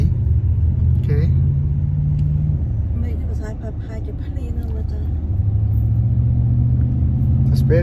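A new Toyota truck's engine rumbles low and steady close by, easing slightly and then building again, while someone talks over it.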